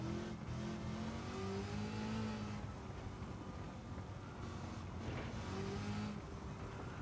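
A car engine in the Gran Turismo 7 racing game, revving faintly and steadily in the background as the car slides around, with the pitch shifting as the throttle changes.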